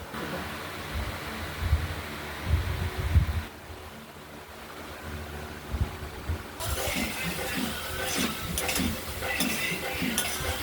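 A spice mixture is stirred and sautéed in a pan for a fish curry with potatoes and coriander leaves, giving soft spoon scrapes and knocks over a low sizzle that grows brighter later, close up.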